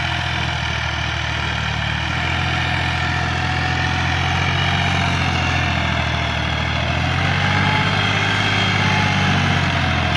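A 2024 Massey Ferguson 260 Deluxe tractor idles with a new 11-tine cultivator attached, giving a steady low diesel drone that holds evenly throughout, close by, with no speech.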